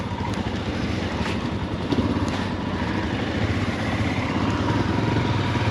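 A Royal Enfield Himalayan motorcycle pulls away on a group ride in the Colli Euganei hills of Veneto: a steady engine rumble buried under heavy, continuous wind buffeting, with no talk.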